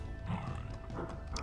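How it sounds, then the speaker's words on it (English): A pig cop enemy in Duke Nukem 3D lets out a short, rough, guttural growl-like snort, close and fairly loud, over low game ambience. "I hear another pig."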